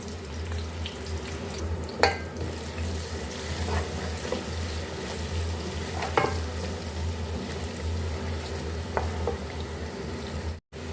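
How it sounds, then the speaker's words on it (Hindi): Onion, garlic, ginger and green chillies fry in a pan: a steady sizzle under a low hum, broken by a few clinking stirs, close by, with no voices. "वो इसमें हम ऐड कर लेंगे और इसको हमने फ्राई कर लेना है"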